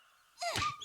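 Dog whimpering in the Shadow Hearts: Covenant video game, a single short, high, wavering whine rising out of quiet game ambience, close and moderately loud.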